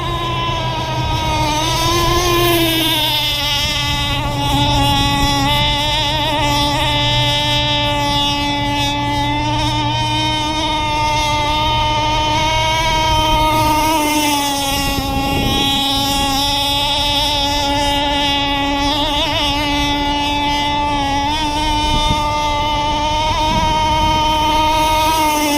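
Exhaust of an Aeromarine Sprint Cat racing boat on rough water, a loud, steady, droning engine note with a sustained pitch held for the whole stretch, no talk.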